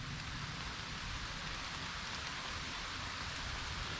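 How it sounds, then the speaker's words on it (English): Steady heavy rain pours through a thunderstorm, a dense, even hiss that continues unbroken at constant loudness, with no voices over it. "now you want to rain again?"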